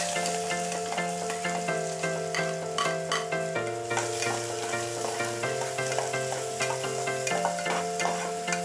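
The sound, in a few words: onions frying in hot oil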